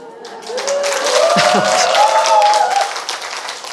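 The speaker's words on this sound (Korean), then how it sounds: "기왕 박수를 치려면 제대로 치든지 말든지." Scattered audience clapping at a Korean motivational lecture on confidence swells briefly and then trails off, with a voice speaking over the claps throughout.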